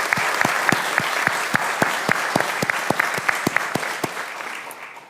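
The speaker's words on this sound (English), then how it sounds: "I'd like to give him a round of applause" A room of listeners at a Senate Finance Committee hearing applauds, with loud, sustained clapping marked by a few sharper claps standing out near the front before it tapers slightly.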